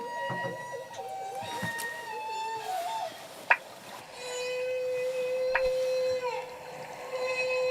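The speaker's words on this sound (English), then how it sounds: "The most amazing sounds." Humpback whale song recorded underwater: long tonal moans and rising whistles slide up and down in pitch, with one sharp click near the middle and a steady low hum behind, no voices.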